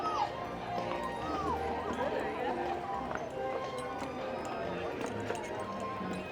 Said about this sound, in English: The rare switching of the horses caught live.